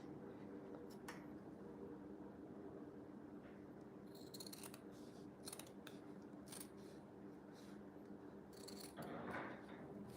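Scissors snip through material in a quiet room, several separate crisp cuts spaced out over the stretch, with faint rubbing and handling between them.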